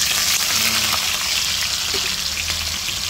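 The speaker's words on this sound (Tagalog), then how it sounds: "Prituhin din po natin yung hotdog natin, no?" Hotdogs frying in a pan for menudo, a dense steady sizzle close up with faint stirring clinks, no voices.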